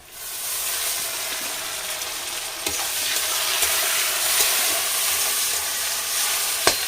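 Chopped tomato sizzles and fries with browned onions and ginger in a pan for a Bengali bhetki fish kalia, a steady close hiss broken by a few sharp clicks of a spatula stirring, with no voices.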